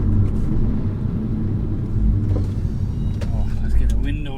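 A 350bhp Golf GTI being driven hard down a road, its engine a steady loud low rumble with tyre and road roar throughout, rising slightly in places, heard from inside the car.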